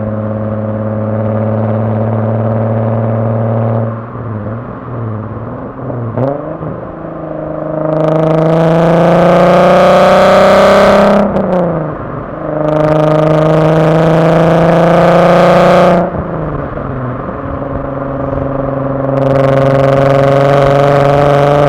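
A Mk1 VW Golf with a swapped R32 engine idles with a deep steady hum, then revs hard in two long surging bursts and a shorter third, loud and close with no talk.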